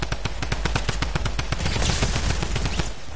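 Rapid bursts of video game gunfire crackle loud and close in a dense, near-continuous volley of sharp repeated shots, with no talk over them.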